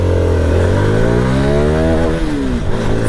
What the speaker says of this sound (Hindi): चलिए चलाकर देख लेते हैं इस कीवे 300N को।